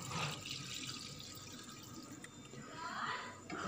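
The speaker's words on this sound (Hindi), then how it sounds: "मैं अब इसमें 1/2 गिलास तकरीबन पानी डाल देती हूँ" About half a glass of water is poured into a pan of egg curry masala for a dhaba-style egg gravy, a close splashing, trickling pour with a short break midway before it resumes.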